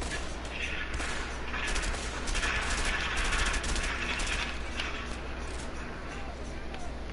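Gunfire in the video game A Way Out crackles as dense, continuous bursts of shots, loud and unbroken across the whole stretch.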